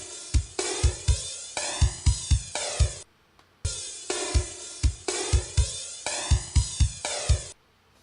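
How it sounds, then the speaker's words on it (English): Drum set run through a flanger effect, repeating kick and snare patterns with sweeping comb-filter whooshes over the cymbals, two loud passages separated by a short gap. "this is the sound of a drum set being played through a flanger"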